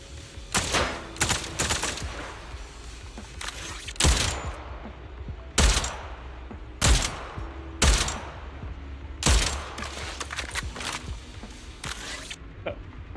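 Sharp, separate gunshots at a shooting range in Zenless Zone Zero, about a dozen loud cracks spaced unevenly over several seconds with a low game hum between them.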